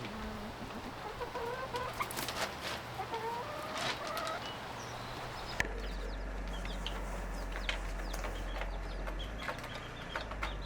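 Homestead flock of chickens clucking steadily outdoors, a busy layer of overlapping clucks and calls continuing throughout with a low background hum, no talking.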